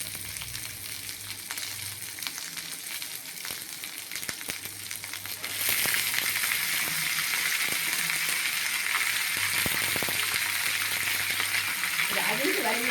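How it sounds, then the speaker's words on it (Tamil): Chopped onion and green chilli sautéing in a pan for pumpkin poriyal, a steady close sizzle that swells louder midway and continues evenly, with faint background noise. "வெங்காயம் போட்டுக்கிறேன். ஒரு பச்சை மிளகாவை போட்டுக்கிறேன். கொஞ்சம் வதக்கிட்டு"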